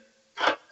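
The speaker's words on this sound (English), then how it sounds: "I guess I should crack my beer open then" A beer can cracked open with a single short, sharp hiss-pop, loud and close, over a quiet background.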